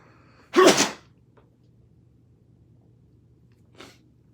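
A single sharp, close sneeze bursts out, followed by quiet room tone and a faint short sound a few seconds later.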